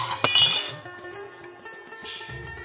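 A small bowl is set down inside a pan while restaurant-style paneer tikka masala is prepared, making one sharp clink, then faint clatter and a low rumble.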